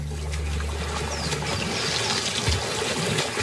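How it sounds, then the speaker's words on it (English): A dominant male hippopotamus ripples the water surface during mating season, giving a steady, continuous watery rumble with trickling texture that carries on without a break, close and moderately loud. "The dominant male ripples the water to advertise he's ready to mate."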